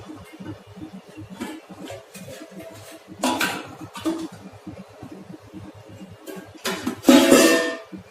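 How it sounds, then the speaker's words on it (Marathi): A metal container of lime pickle mixture is set inside a pressure cooker and a lid placed on it, giving light clinks and two louder clattering knocks with no talking. "आता हे मिश्रण केलेले या डब्बा ठेवायचे आपल्याला याच्यामध्ये आणि वरून आपण झाकण ठेवणार आहे"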